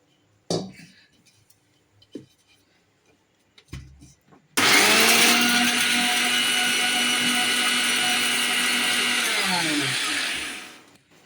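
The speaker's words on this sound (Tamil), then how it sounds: "நம்ம கொஞ்சம் கொஞ்சமாக போட்டு எல்லா ஆவாரம்பூவையும் அரைச்சாச்சு" An electric mixer grinder grinds roasted avarampoo (tanner's cassia) flowers for herbal tea, roaring loudly and steadily for about six seconds before winding down. A few knocks and clatters come first.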